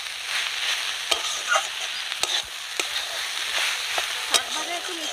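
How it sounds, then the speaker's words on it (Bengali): Greens sizzle steadily in a pan after sugar is added, with repeated sharp scrapes and knocks from a spatula stirring them at an irregular pace. "আর একটু নেড়ে নেবো বন্ধুরা, শাক ভাজা আমাদের একদম রেডি।"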